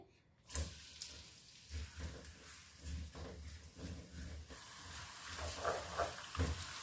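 Three finely chopped onions go into half a cup of hot oil in a pan, with a soft hiss and sizzle and irregular stirring knocks close by, quiet and without talk.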